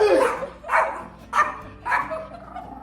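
A dog barks four times in a steady rhythm, each bark short and fairly close, with quiet gaps between them and faint background noise in a New York City setting.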